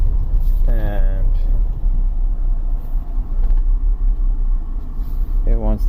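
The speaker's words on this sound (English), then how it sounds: "it wants to misfire" A 2001 BMW X5 with the 3.0L engine rumbles loud and close from inside the cabin while driving, with an uneven low drone, and someone talks briefly over it.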